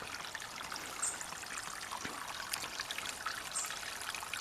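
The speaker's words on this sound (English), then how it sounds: "And this water just flows so beautifully." A small stream trickles along its own narrow, curving path outdoors, a steady soft babbling and dribbling of water, faint and continuous with no voices.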